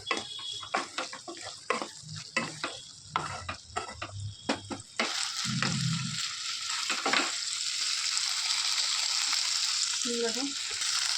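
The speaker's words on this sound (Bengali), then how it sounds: "ঘিটা দিয়ে একটু নাড়াচাড়া করে নিচ্ছি" Banana flower curry stirred with ghee in a frying pan, sizzling steadily while a spoon scrapes in quick, irregular strokes; after a few seconds the frying swells into a louder, continuous hiss with occasional knocks.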